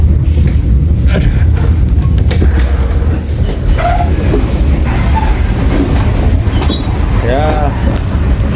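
Train rumbling into Surabaya Kota station, a continuous loud rolling rumble from inside a carriage, with brief squeals and clatter toward the end as it slows, and people's voices faintly mixed in.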